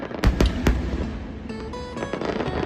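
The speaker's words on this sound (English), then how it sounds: "where many fireworks are launched rapidly, in Japan, there's often a focus on the beauty of single," Fireworks explode in Zushi, Japan: a few sharp, booming bursts are followed by dense crackling and sizzling that fill the remaining seconds.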